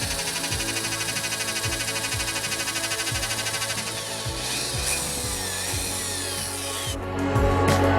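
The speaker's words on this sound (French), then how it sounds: "je viens percer des trous à chaque extrémité pour ensuite accueillir de la colle à bois" Power drill boring holes into each end of wooden pieces for glued dowel joints, a steady motor whine with repeated bite-and-release strokes running the whole time, loud and close with no talk.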